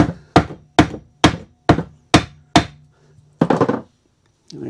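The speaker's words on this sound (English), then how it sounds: "Hammer them in." A hammer drives protruding staples into the particle board frame of an RV: six evenly spaced, sharp woody knocks ring close and loud, followed by a short scraping rattle and a faint tap.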